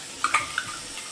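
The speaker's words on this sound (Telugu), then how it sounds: "ఇవి కొంచెం ఫ్రై అవ్వాలండి ఆనియన్స్" Chopped medium onions frying in oil in a pan, a soft steady sizzle with a few faint clinks of a stirring spoon against the pan, close and quiet.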